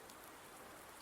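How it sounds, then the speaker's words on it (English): Steady, even rain from the video game PV19 pours without a break, a dense hiss of drops on surfaces at moderate level with no voices. "Not happy with the fact, however, that it is raining."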